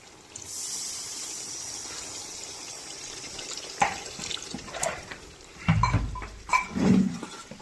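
Water poured into spiced masala in a cooking pan for a Gujarati drumstick curry, a brief splashing pour with gurgling bursts near the end, following a stretch of quiet background hiss.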